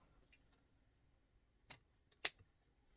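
Scissors snip at a craft piece for a Valentine's Day gift set: a few sharp, close snips, two clearly louder, separated by quiet pauses.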